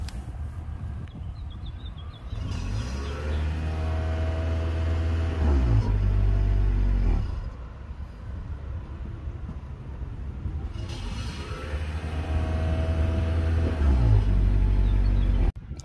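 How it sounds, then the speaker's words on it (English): A 2021 Toyota Sienna Limited hybrid minivan idles, then revs up in several steady rises and drops, a low droning exhaust note recorded close by. "let's get an exhaust note and see what your minivan sounds like"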